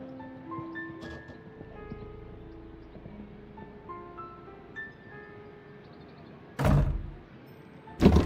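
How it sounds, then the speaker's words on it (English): A door being blocked in a Sherlock detective video game, heard as two sharp, loud thuds near the end after a stretch of quiet tonal background music. "The door is now blocked."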